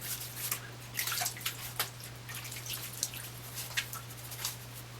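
Water splashes and drips at a bathroom sink as a man wets his face before shaving, with irregular soft splashes and drips over a steady low hum.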